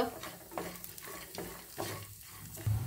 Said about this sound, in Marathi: ह्याच्यामध्ये 4 मिरच्या टाकल्यात, त्यांनाही थोडंसं परतूया।